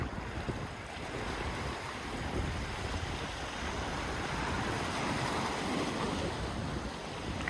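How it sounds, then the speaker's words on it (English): Waves break and wash against the rocks of a jetty in Venice, Florida, a continuous churning surge of water mixed with buffeting wind noise on the microphone, fairly close and steady with no voices. "can hear the sound of that water is very, very nice. It's relaxing."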